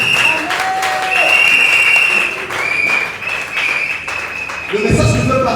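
Congregation applauding in a church during an ordination service, steady dense clapping with cheering voices mixed in, sustained at close range with a louder burst near the end.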